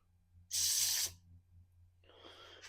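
A forceful aerosol spray of carburetor cleaner into a Senix chainsaw that won't start hisses for about half a second, then a second, softer burst of spraying follows after a pause.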